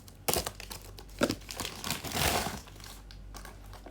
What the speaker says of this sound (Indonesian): Langsung aja kita unboxing.